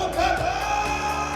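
Stadium crowd at an IPL cricket opener, KKR versus RCB, a dense sustained roar of cheering and yelling that stays loud and steady for a brief moment.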